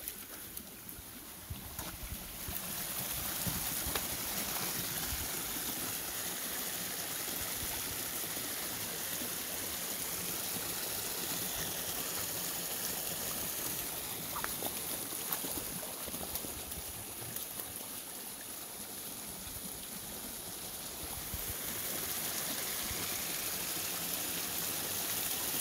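River water flows steadily at night where golden retrievers play, a continuous close rushing and gurgling wash that stays even throughout with no talk.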